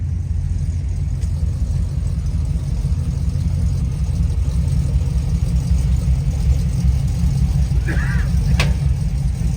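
A car engine idling low and steady while backing up at a rod run car show, a close, continuous rumble with faint rising whines and a brief distant voice.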